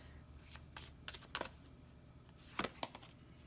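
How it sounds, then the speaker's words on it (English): Star Dragons oracle cards are shuffled and drawn in faint, quiet bursts, with a few sharp crisp riffles and snaps standing out against low background hiss. "let's grab a Star Dragons card"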